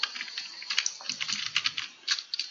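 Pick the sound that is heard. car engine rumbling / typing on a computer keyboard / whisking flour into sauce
typing on a computer keyboard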